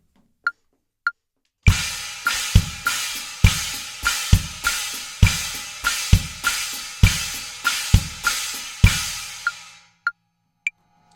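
A drum pattern plays a 3 over 2 polyrhythm: steady, evenly spaced hits layered against a second interlocking pulse, a sharp click marking time before and after.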